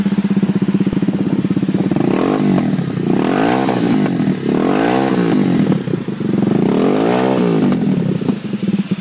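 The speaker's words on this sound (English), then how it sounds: "This is the Cleveland CycleWerks Misfit with the HMF stainless steel exhaust on." Cleveland CycleWerks Misfit motorcycle, 2012, fitted with an HMF stainless steel exhaust, idling loud and close with a throbbing burble and three quick throttle blips that rise and fall in pitch.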